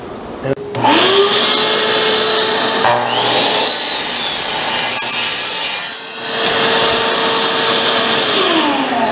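Power saw blade cutting through wood on a router table stand build, a loud sustained whining rasp that spins up, bites into the board for several seconds, dips briefly, then cuts again before winding down.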